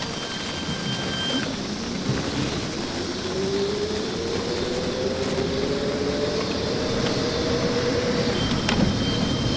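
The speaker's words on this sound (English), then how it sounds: "The tone you hear is the Curtis controller, which emits that tone at low speeds" A Curtis motor controller in an electric Chevy S-10 pickup whines with a steady, slowly rising tone at low speed, under constant road and cabin noise.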